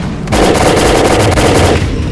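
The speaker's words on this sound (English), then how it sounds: "To fire a submachine gun with any decent stability." Submachine gun firing a sustained automatic burst in the STALKER Zone video game, loud and dense, a rapid continuous rattle of shots running nearly two seconds with no talking.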